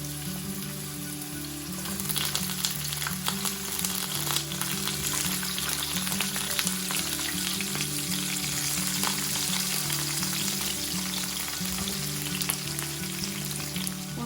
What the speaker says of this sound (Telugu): ఆయిల్ వేడయ్యాక కట్ చేసుకున్న వంకాయ ముక్కలు వేసి వేయించుకోవాలి.